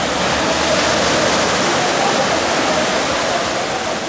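Ocean waves washing up on a beach at a Manzanillo, Colima hotel, a loud, continuous broadband rush of surf close by with no distinct breaks.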